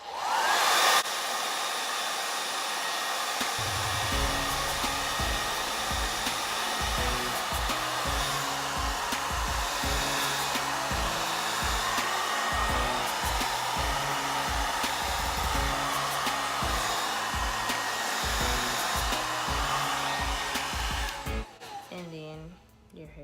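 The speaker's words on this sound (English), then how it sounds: "you're gonna use your blow dryer, and you're just gonna blow the heat down along the shaft of your hair" A handheld blow dryer runs steadily and loudly for about twenty seconds while being used to stretch and detangle natural hair, a constant whooshing roar that cuts off near the end.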